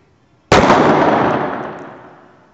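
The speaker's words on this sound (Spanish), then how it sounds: "Vamos a hacer el ensayo, la prueba de disparo." One sharp, loud shot from a Glock 17 blank pistol cracks out of near silence, its echo ringing and fading over a couple of seconds.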